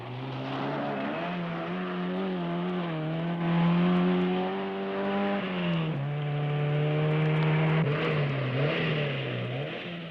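A Lancia rally car drives in the East African Safari Rally, its engine droning steadily with pitch rising and dipping as it revs, sustained and fairly loud, with no voices.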